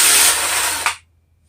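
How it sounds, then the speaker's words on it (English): A power drill removing bolts from a two-stroke engine whirs loudly for under a second, spins down, and then cuts off into silence. "I can just get them out with a drill."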